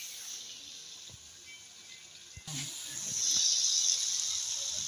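Crispy French fries dropped into hot oil, a steady hiss that swells into louder, brighter sizzling after a faint clunk midway, close and continuous without talk.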